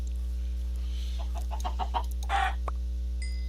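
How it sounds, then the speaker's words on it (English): Chickens in the Minecraft video game give several short clucks in quick succession over a steady low background hum, fairly close and clear, with no talk. "There's a cornucopia full of chickens there."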